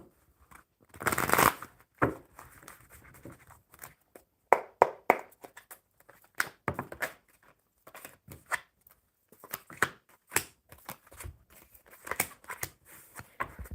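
Playing cards are shuffled during a live tarot card reading, with repeated bursts of riffling and sharp snapping taps in short, irregular clusters, close and fairly clear, with no talk.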